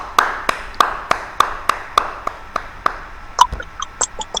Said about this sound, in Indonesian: Kasih tepuk tangan buat Mas Beni